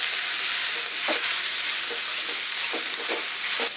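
Cabbage frying in a pan with curry leaves and chilli, stirred with a spoon: a steady bright sizzle throughout, broken by several soft scraping strokes.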